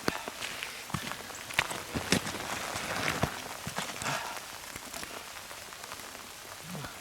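Steady light rain patters on a surface close by during a deer hunt, with scattered sharper drips and taps throughout.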